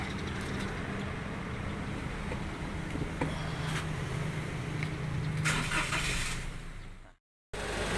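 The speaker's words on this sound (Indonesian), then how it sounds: "kita coba nyalakan dulu mobilnya" A used car's engine is started during a pre-purchase inspection: a dense, steady mechanical rumble that swells slightly before cutting to a moment of silence near the end, loud and close, with no voices.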